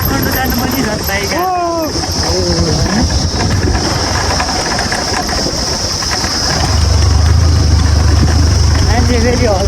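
A motorbike engine hums steadily while riding a muddy village road in Nepal at night, with voices talking over it and the rumble growing louder toward the end.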